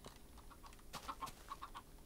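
Minecraft chickens cluck in short, quiet bursts, several soft calls spaced out over faint background sound, with no talk.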